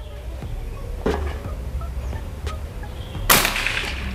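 One crisp air-rifle report from a PCP rifle, a Predator OD 38 folding-stock or Marauder OD 38, shooting at target paper, preceded by a few small clicks over steady outdoor ambience.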